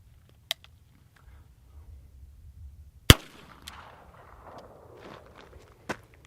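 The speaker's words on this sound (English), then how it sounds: "I'm going to shoot this one-handed just to kind of be historically accurate with this." A French MLE 1892 8mm revolver fires a single sharp, loud shot, one-handed and double action, followed by a short fading echo and some faint handling clicks.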